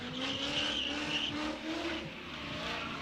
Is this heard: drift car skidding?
yes